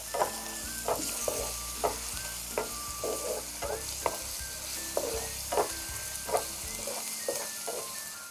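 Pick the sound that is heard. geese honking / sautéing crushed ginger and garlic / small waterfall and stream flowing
sautéing crushed ginger and garlic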